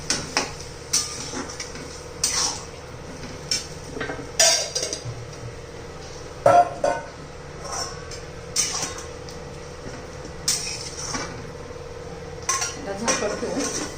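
A spoon scrapes and clinks against a pan while bottle gourd curry is mixed with coarse peanut powder, producing irregular metallic taps and knocks at close range with no talk.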